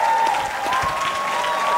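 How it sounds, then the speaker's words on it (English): A brief burst of audience applause at a conference opening plenary panel, steady clapping from a large hall with a faint tone running underneath. "I think this deserves a round of applause."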